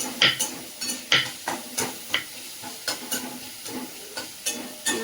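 Spices crackle and sizzle in hot oil while tempering cluster beans, a spatula scraping the pan in a quick, regular rhythm of sharp strokes.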